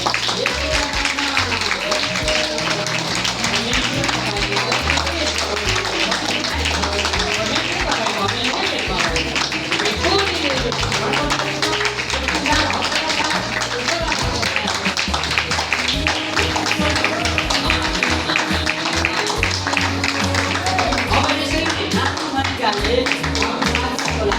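Long applause from wedding guests, dense continuous clapping at an even level throughout, mixed with music and speech.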